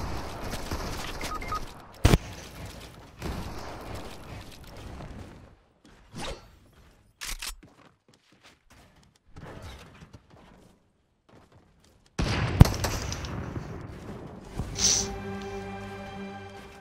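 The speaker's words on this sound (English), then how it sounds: "Oh, is someone shooting at me?" Scattered Fortnite gunfire, with brief bursts of shots and sharp impacts separated by quiet gaps, then a denser stretch of firing and effects near the end.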